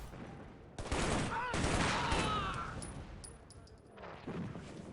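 A G3 rifle in the video game Shadow Ops: Red Mercury fires in dense bursts of gunfire with a clamorous, rattling attack. The firing drops away and then resumes near the end.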